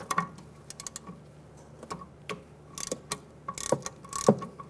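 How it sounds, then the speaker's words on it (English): Hand ratchet with an E10 socket loosening a bolt on a 2006-2009 Mercedes-Benz E350 brake assembly, quiet close clicking strokes in short irregular bursts. "Using an E10 socket, we're gonna take this bolt out right here."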